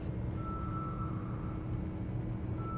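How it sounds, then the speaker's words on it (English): A ship's warp drive engages in the space game EVE Online: a steady, low, droning engine rumble with a thin sustained tone, even and moderately quiet throughout. "Warp drive active."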